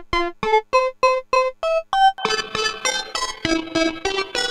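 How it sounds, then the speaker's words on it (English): Synth run through a Chase Bliss Lossy pedal, a series of short plucked staccato notes in a steady rhythm, then denser lo-fi, grainy chords, with no talking. "So this synth is going to be run through Lossy,"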